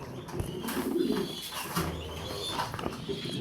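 Racing pigeons in a loft give soft, low coos at close range, a few rolling calls over a quiet room with no talking.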